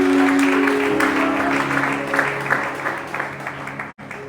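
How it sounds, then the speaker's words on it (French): A church congregation applauds in a loud, dense burst of clapping during a service, the clapping thinning slightly toward the end before cutting off abruptly. "Est-ce que on peut acclamer le Seigneur?"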